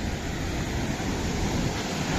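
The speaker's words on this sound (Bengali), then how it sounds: "এখন ঢেউ আবার বাড়লো" Ocean surf at Varkala beach in Kerala rolls in as a steady, broad wash of waves with wind buffeting the microphone, continuous and fairly loud with no voices.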